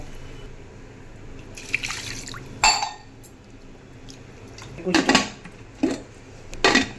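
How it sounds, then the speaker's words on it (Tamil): Water is poured from a tumbler into a pot of mutton seasoned with chilli powder and salt, with intermittent splashes, drips and metallic clinks of the cookware spaced across the moment. "இப்போ வந்து ரெண்டு டம்ளர் தண்ணி ஊற்றிக்கலாங்க"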